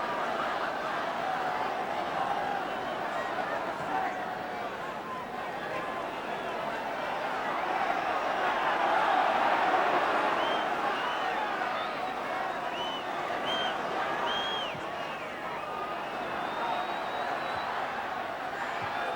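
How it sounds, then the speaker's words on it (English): Football crowd at the end of a Spurs v Leeds United match, singing and cheering in a steady, loud roar that swells and fades, with a commentator's voice faintly underneath. "the crowd in good voice at the end"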